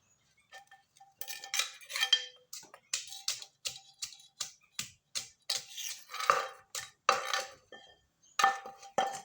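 Papaya salad for kidney patients gets pounded in a mortar with a pestle, a steady series of sharp knocks and clinks about twice a second, close and distinct with no voices.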